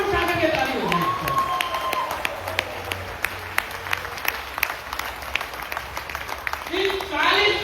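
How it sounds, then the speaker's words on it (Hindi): An audience at an eighth-anniversary celebration claps with hands raised, a sustained spread of many claps running for several seconds, with someone talking at the start and again at the end. "एक बार हाथ ऊपर उठा के ताली हो जाए।"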